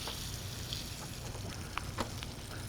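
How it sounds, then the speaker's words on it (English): A steak sears in hot beef fat with a steady, dense crackling sizzle, broken by a few sharper pops and spits, close and alone. "We're gonna sear our steak in there."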